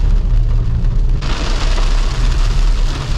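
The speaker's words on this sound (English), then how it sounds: "The rain lashing against the windscreen." Heavy rain drums steadily on a car windscreen during a wet mountain drive toward Munsiyari in Uttarakhand, a dense continuous hiss over low engine rumble that thickens and brightens partway through.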